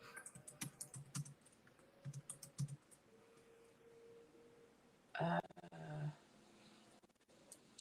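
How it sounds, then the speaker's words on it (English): Typing on a computer keyboard during a live stream, heard as scattered, irregular soft key taps in the first few seconds, followed by a louder burst of clatter near the middle and fainter taps toward the end. "Shoot, if I could type."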